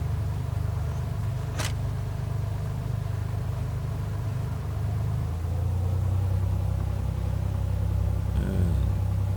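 An aircraft engine in the Prepar3d flight simulator drones steadily as it throttles down while taxiing, a low continuous rumble with a brief sharp click near the start and a faint chirp near the end.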